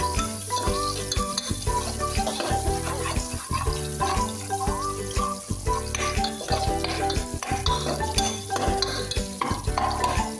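Garlic browning in a hot pan while cooking kangkong, a steady sizzle and frying hiss with occasional stirring, heard beneath louder background music throughout.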